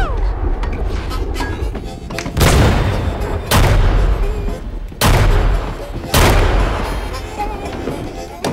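Four or five heavy gunshots ring out, spaced about a second apart, each a loud close crack with a short echoing tail over a low background murmur.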